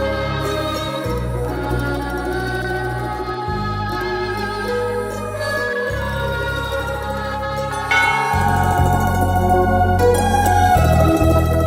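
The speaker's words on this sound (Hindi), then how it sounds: "घंटी बजेगी, घंटा बजेगा।" Repeated bell ringing in a comedic film scene: sustained resonant bell tones struck in a slow series of long rings, growing louder and denser toward the end, with no talk.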